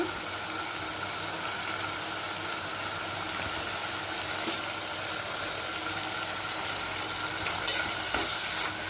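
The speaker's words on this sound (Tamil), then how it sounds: "நல்லா கலந்து விட்டுட்டோம் கொஞ்ச நேரம் தக்காளி வதங்கிட்டோம்" Garam masala and tomatoes sauté in a pan as a spoon stirs them, giving a continuous soft sizzle with faint scraping, fairly quiet and without talk.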